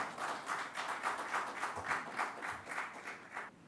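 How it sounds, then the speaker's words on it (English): Applause from the audience at a business leadership summit, a steady wash of many hands clapping at moderate distance, with a soft rhythmic pulse and no voices on top. "Let's welcome them with a big round of applause."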